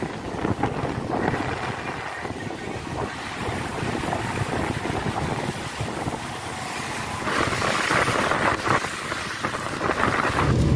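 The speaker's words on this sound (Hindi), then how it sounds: "बहुत ज़्यादा तेज़ बारिश है" Heavy rain pounds a moving car, a loud, dense, steady roar of rain and wind noise that swells slightly toward the end. No one speaks.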